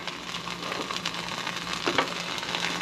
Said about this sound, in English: I like that good sizzle.